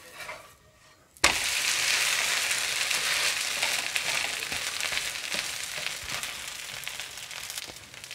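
Rava roti cooking on a hot pan after ghee is added. A sudden loud sizzle bursts in and settles into steady frying crackle that continues throughout.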